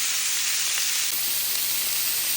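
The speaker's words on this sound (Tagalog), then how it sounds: "kunting gisa-gisa lang tayo sa mga gulay" Vegetables sautéing in a hot frying pan in the same oil used to fry beef for a pot roast, giving a steady, bright, hissing sizzle at even loudness throughout, close to the pan with no talking.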